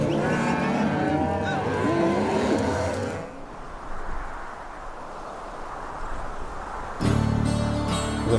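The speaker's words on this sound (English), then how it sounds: "you can just hear cattle bawling" Cattle bawl in drawn-out calls on a New Mexico cattle ranch, followed by a stretch of rumbling outdoor noise, then a loud burst of bawling returns at the end.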